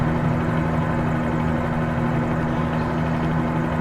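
Simulated Bell 47G2 helicopter engine in Microsoft Flight Simulator, a loud, steady droning hum with a constant low tonal whine and rotor thrum, unbroken throughout.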